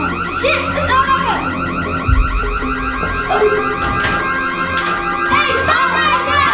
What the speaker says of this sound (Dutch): Zit, het alarm!